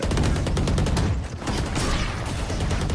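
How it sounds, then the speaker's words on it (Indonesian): Rapid gunfire bursts from a competitive tactical shooter esports match in a playoff game, loud dense volleys of shots filling the whole stretch with little pause. "tapi Yuamta masih mencoba nembak"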